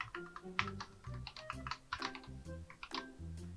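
Quick, uneven keystrokes on a computer keyboard while typing HTML code, coming in close bursts of clicks with short pauses and no voice over them.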